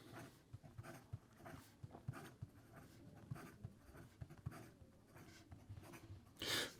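A fountain pen with an extra fine nib is written fast across paper, giving a run of quiet, close scratchy strokes in quick irregular rhythm, with a brief louder rustle near the end.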